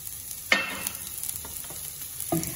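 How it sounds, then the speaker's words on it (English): Chopped onions and garlic sizzling in oil in a cast iron skillet, a soft steady fry with a couple of sharper stirring scrapes close by. "we're gonna cook these up until they start getting a little bit caramelized looking"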